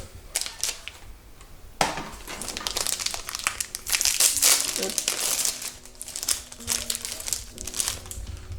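A brand-new Polaroid 660 film cartridge being unwrapped, giving close crinkling and crackling of packaging with sharp rustling bursts and clicks, while a voice talks quietly underneath.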